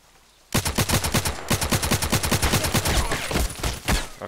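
Rapid automatic gunfire in the Contract Wars first-person shooter, a quiet lull and then a loud, steady stream of shots from about half a second on, with a short gap near the one-and-a-half-second mark before the burst resumes.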